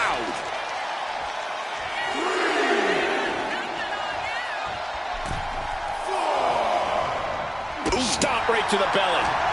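An arena crowd roaring in a wrestling video game, a dense sustained cheer swelling and dipping, punctuated by impact thuds and a sharp slam near the end, under commentary voices.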